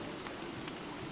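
Steady rain hisses continuously with a soft, even patter and no other sounds, in the video game Don't Starve.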